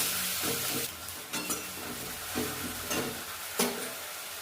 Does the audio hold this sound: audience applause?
no